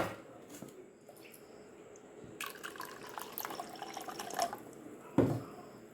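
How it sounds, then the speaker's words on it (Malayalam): Water is poured into a bowl of chicken pani poori rasam, a faint trickle and splash building to a brief louder pour near the end, with no talking. "ഇനി നമുക്ക് കുറച്ച് വെള്ളം കൂടി ഒഴിക്കാം."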